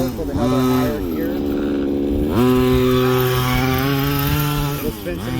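A Redcat Rampage XT RC truck with a two-speed transmission runs its motor, a loud buzzing engine whine that revs up, holds steady and shifts pitch, close and continuous.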